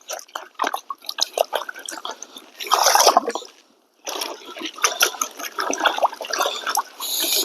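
A gold pan is dipped into water and rocks are washed in it, giving close, irregular splashing, trickling and dripping in bursts, with a brief pause midway before the sloshing resumes.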